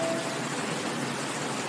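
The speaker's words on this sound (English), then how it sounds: "adding in that rain effect that our pal Llama 2 hinted at" Steady rain effect layered into a lo-fi music track, an even, dense hiss of falling rain with no distinct beat audible.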